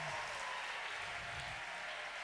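Church congregation applauding together in a dense, steady wash of clapping at low level, with no voices on top.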